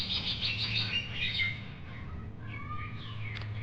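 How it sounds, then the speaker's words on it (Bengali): Several birds chirp and call in quick, bright phrases outdoors in a village while a clay stove is being built, fairly close, then a fainter burst of tweets follows over a low background hum. "এখানে পাখি খুব ডাকাডাকি করছে,"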